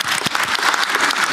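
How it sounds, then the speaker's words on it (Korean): Celebratory applause at a meeting of small-business owners with the president, a short, dense burst of many hands clapping close by. "축하 박수 한번"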